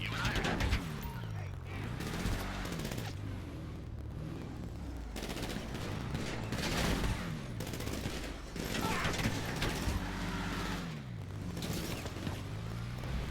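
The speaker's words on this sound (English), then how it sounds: "Can you all stop shooting me?" Rapid bursts of gunfire from GTA Online, continuous across the span with dense repeated shots, loud and busy under a droning engine-like hum and occasional talk.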